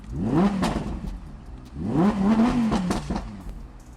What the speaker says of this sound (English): You can actually hear the engine idling slightly louder.